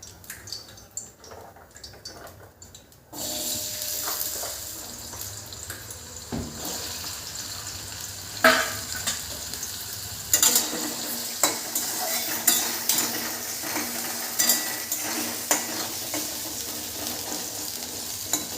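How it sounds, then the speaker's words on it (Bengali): Small-cut potatoes fry in a pan in a rural Bengali kitchen. A loud, close sizzle starts suddenly and keeps going, broken by utensil scrapes and clinks as the pieces are stirred. "আলুটা এদিকে ভাজা হোক"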